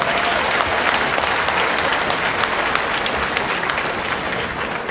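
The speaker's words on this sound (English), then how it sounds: "let's give another round of applause to Jang Star Taekwondo for demonstrating Korean martial arts" Sustained applause from an audience at a Korean festival honoring a taekwondo martial arts demonstration, a dense steady wash of many hands clapping throughout, fairly loud and continuous.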